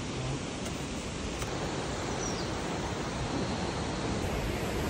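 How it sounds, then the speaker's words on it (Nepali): Rushing water from what seems a waterfall, with spray reaching the spot, fills the air as a steady, loud, broadband roar with no pauses and no voices. "पानीको छिट्टा यहाँसम्म आइपुग्दो रहेछ"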